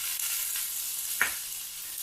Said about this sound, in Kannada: ಇದಕ್ಕೆ ಟೊಮೆಟೊ ಹಣ್ಣು ಹಾಕೋಣ.